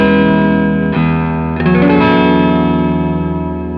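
An electric guitar played through fuzz distortion rings out with two thick, sustained chords, one changing into the next, loud and saturated with a long ringing decay.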